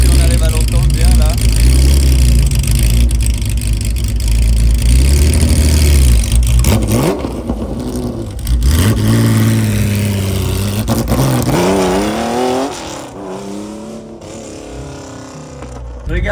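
A Porsche engine revving loudly and close while driving in convoy past vineyards, a deep rumble swelling and falling with throttle blips and sustained pulls, easing off toward the end with a voice talking briefly.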